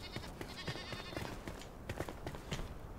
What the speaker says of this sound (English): Why does it sound like a sheep is up here?